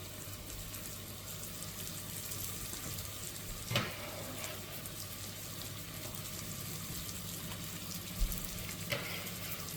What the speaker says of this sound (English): Now the bacon's had some time to render off, we're going to add our onions.